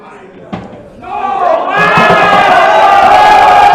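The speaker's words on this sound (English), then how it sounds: "The crowd are on the feet." A crowd roars and cheers loudly at a shootout quarter-final match, swelling from a few shouts into a sustained wall of cheering and yelling.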